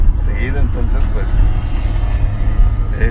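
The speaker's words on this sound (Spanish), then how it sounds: "el motor se oye bien" A 1967 Ford Galaxie 500 with a V8 engine idling in a steady, deep low rumble that continues throughout, while people talk over it.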